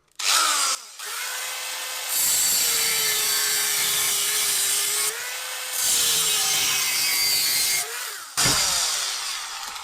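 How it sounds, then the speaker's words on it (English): Angle grinder cutting metal for a rocket stove build, loud sustained grinding screech in long passes with short pauses where the motor spins alone between cuts. "almost let the weight of the grinder do the cutting"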